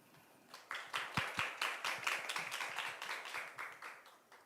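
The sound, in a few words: audience applause welcoming the speaker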